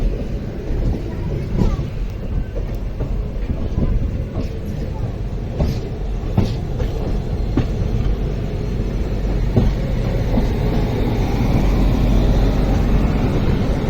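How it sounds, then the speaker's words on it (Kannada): A low, continuous rumble of a train slowly reversing into a yard while shunting, with occasional clanks and a person talking over it. "ಯಾವುದೋ ಒಂದು ಟ್ರೈನ್ ರಿವರ್ಸ್ ಯಾರ್ಡಿಗೆ ಹಾಕಾಕತ್ತಾರ ರೀ. ಶಂಟ್ ಮಾಡಾಕತ್ತಾರ."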